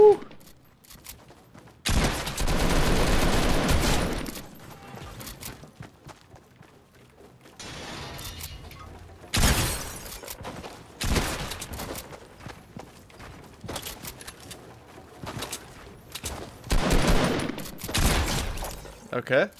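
Sniper rifle shots in Fortnite on the Nintendo Switch: several loud, sharp bursts ring out at irregular intervals across the stretch, with quieter game noise and voices talking in between.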